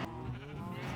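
A Minecraft sheep gives a single drawn-out wavering bleat, close and clear, filling the moment amid a farm full of loose animals.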